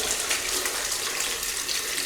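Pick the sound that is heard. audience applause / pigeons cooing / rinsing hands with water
rinsing hands with water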